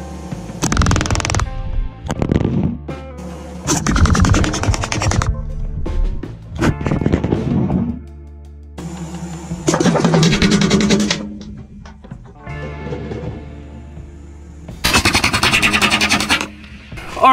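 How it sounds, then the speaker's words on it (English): A Hatsan Blitz full-auto airgun empties a magazine into a hog ribcage meat target outdoors, firing in several loud, rapid bursts separated by short pauses. "Let's go ahead and dump a secondary magazine onto that meat target and really see what happens."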